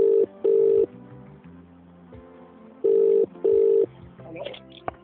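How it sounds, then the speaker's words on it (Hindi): A telephone rings in two double bursts of steady electronic tone, separated by a quiet gap, as a radio host places a call on a live FM show. "चलिए फोन घुमाते हैं।"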